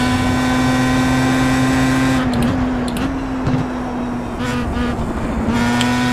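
A race car engine drones loudly and continuously in the iRacing sim at Silverstone, holding a steady pitch, with brief dips and blips as the throttle lifts and gears shift.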